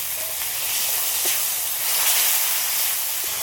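Water added to a hot pan of frying potato curry masala with turmeric, ginger and coriander paste, for a bhola fish curry, gives a loud, steady sizzling hiss that holds evenly throughout, close by, with no voices.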